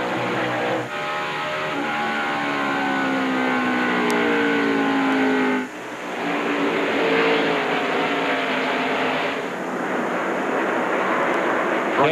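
NASCAR stock cars race at the 2001 Chevy Monte Carlo 400, a pack of loud roaring engines sweeping past with rising and falling whines and a steady roar throughout, heard near and without talk.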